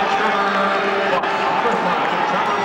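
Statesmen fans at a 1998 Hobart lacrosse game roar steadily after a goal, a dense, continuous crowd din with cheering voices blended throughout.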